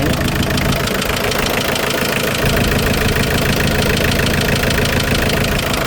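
An old, worn used pickup truck engine idles loosely and steadily up close, a dense continuous rumble with a knocking undertone, with speech faintly mixed in.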